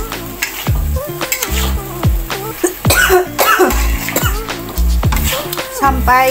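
Repeated coughing and throat clearing from someone at the stove while sambal kecombrang is cooked with oyster sauce, close and loud, interleaved with clattering pans and utensils and a voice speaking between coughs.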